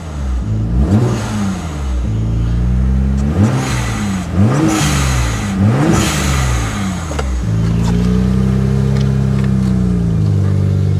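A BMW E30 with an N54 engine cranks, fires, and revs up repeatedly in close, loud blips, then falls into a steady idle.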